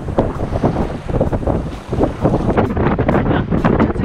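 Steady wind buffeting a sailboat on the Baltic Sea, a loud continuous rushing roar with gusty surges and water wash beneath, no voices.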